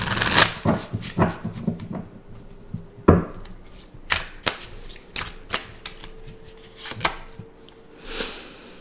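A deck of charm cards is shuffled by hand in a quiet room, giving repeated riffling and slapping bursts with sharp card taps spread through the passage.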